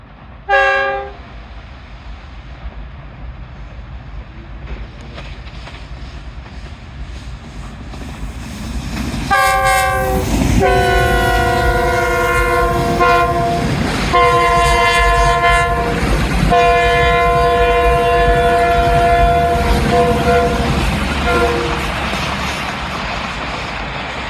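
Rafftar rail car train approaching from Lahore on a 90-degree curve, a long multi-tone horn sounding in several loud blasts over rumbling wheels and clickety-clack that grows closer and louder.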